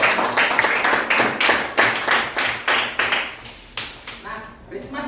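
A class claps hands in rhythmic unison, a string of sharp, close claps in a steady beat that slows and softens toward the end.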